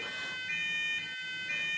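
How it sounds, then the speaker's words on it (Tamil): An apartment smoke alarm in Ireland, set off by cooking smoke, blares a loud, piercing electronic tone in repeating pulses with brief gaps between them. "ஃபயரிங் அலாரம் தான் அடிக்குது."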